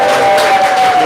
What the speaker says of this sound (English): could I ask for a cheeky little round of applause for those guys?